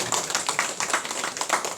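Congregation applause at a church service: a dense, steady patter of many hands clapping together for nearly two seconds, fairly close and even in level, with no talking over it.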